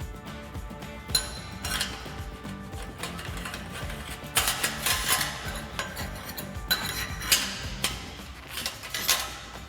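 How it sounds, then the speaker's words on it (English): Metal exhaust clamps slid over the pipes of a 2015-2017 Mustang GT Corsa cat-back exhaust, producing close metallic clinks, scrapes and rattling clatter in irregular bursts, with no talk. "So for now, we're just going to slide these new clamps over the top."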